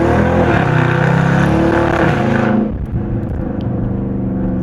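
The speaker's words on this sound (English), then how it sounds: "Kids tell me to rev it. I do a little pull for them." Dodge RT engine revved in a short pull during a drive on an evening street, a loud, dense roar that holds steady for a couple of seconds before dropping to a lower idling rumble.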